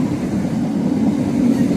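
A Southeastern class 466 electric train pulls into Swanley station with a steady, loud low rumble of wheels on rails, heard close by with no one talking.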